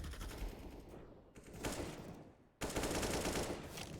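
Gunfire in an esports first-person shooter match, with rapid bursts of automatic shots and single cracks coming loud and close, separated by brief gaps.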